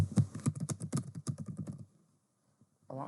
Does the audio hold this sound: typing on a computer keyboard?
yes